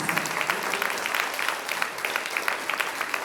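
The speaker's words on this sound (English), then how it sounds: "a round of applause" Steady, dense applause from a crowd at a school-board citation event honoring state champion athletes, sustained evenly throughout at moderate loudness with no talk.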